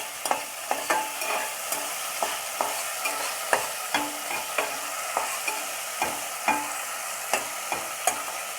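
Pan-fried cauliflower pieces stirred in a pan with a spoon while pasta cooks, a steady sizzle with regular close scraping strokes about twice a second, no voices.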